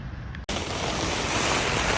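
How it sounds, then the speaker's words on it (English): Strong wind gusting up to 40 mph with heavy rain battering a fishing shelter at a trout lake, a loud, dense roar of wind buffeting the microphone that bursts in suddenly and stays constant. "We've got winds gusting of up to 40 mile an hour. As you can hear, the rain's going"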